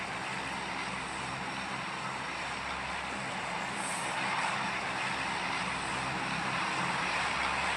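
A fixed-wing airplane engine drones steadily during the drop phase of a battle royale video game, a continuous even roar with no talk.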